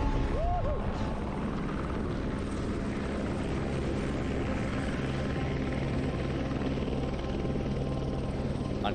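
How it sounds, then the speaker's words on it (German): A helicopter drones loudly and continuously with a steady rotor thrum, heard from inside or very near, with no pauses. "Man kann auf jeden Fall mit diesem Helikopter auf diese Insel fliegen."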